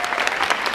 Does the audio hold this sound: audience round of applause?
yes